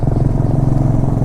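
Royal Enfield Bullet motorcycles riding on a mountain road in the Spiti Valley, a deep steady thumping engine chug close to the microphone, loud and continuous with no talk.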